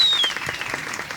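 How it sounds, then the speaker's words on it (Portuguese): Brief applause at a wedding ceremony, a close burst of many hands clapping together with a faint ringing tone fading out at the start. "Vamos aplaudir esse momento."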